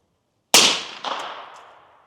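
Rifle shots ring out at an outdoor range aimed at a glass target, one loud sharp crack after silence, then a softer second report roughly half a second later, both trailing off in long echoes.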